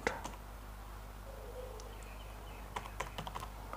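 Quiet computer keyboard typing while entering a formula in a spreadsheet, a few scattered keystrokes early, then a quick cluster of taps near the end over a low steady hum.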